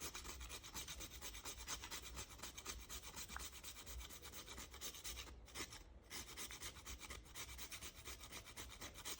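Rapid, even rasping strokes of spice grated for Jamaican cornmeal porridge, a quiet close scratching rhythm that continues steadily with a brief pause near the end.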